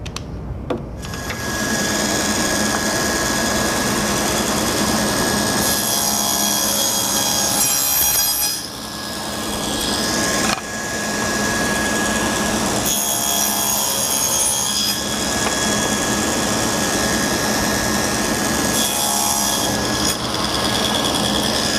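A power saw cutting a wooden board in a drawer-making workshop, heard as a loud, continuous whine and roar with several brief dips where the cut pauses, close by.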